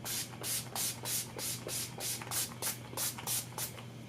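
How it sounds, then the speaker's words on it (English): A fine mist makeup setting spray pumped onto a face about a dozen times in steady succession, each spritz a soft, close hiss at an even rhythm. "So I'll just shake that up and spray my face."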